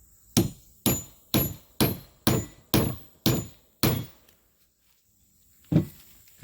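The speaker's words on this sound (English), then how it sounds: "We're going to cut a steel bolt with this" A CPM 3V steel CPK 5 Basic Field Knife is driven through a steel 1/4-20 hex head cap screw: eight loud, evenly spaced sharp metallic strikes, a short silence, then one final strike.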